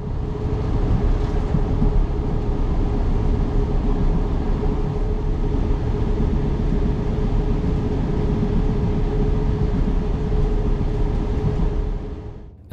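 A Transport for Wales diesel railcar runs north on the Heart of Wales line, a steady loud engine drone and rolling rumble with a constant tonal hum, continuous for about twelve seconds before cutting off.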